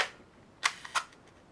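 A camera shutter at a quarter-second exposure snaps open and shut, giving two crisp mechanical clicks roughly a third of a second apart. It is close, in a quiet room, with no talking.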